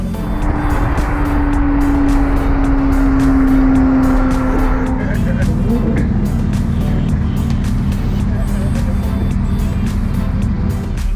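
A car engine idles and runs at a luxury car meet where a Pagani Huayra and a Dodge Charger are present, a loud continuous rumble with a steady tone that shifts midway, while people talk nearby.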